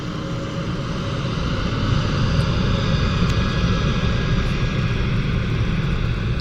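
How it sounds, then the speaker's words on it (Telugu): An IndiGo airliner takes off at an airport, its engines roaring as a loud, steady, broadband rumble that holds throughout with no voices over it. "ఇండిగో ఫ్లైట్ అది అక్కడ వెళ్తూ ఉంది కదా"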